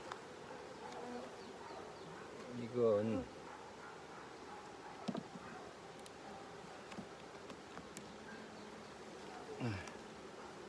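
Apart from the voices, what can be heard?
honey bees buzzing at a beehive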